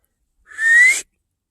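Outdoors, a person gives one clear whistle lasting about half a second, fairly loud and alone, with a slight rising pitch.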